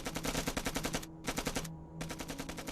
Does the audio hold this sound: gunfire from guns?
yes